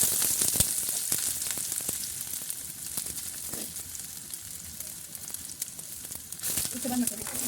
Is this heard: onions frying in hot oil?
yes